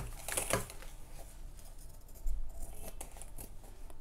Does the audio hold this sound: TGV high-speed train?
no